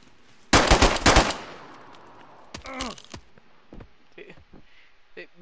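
Automatic gunfire in a street shootout in a video game, a loud rapid burst for about a second, then a second shorter burst, followed by scattered lighter impacts and a faint groan.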